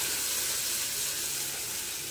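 Cashew and coconut paste added to fried spices for a chicken roast, a steady, fairly faint sizzle and hiss in the pan without talk.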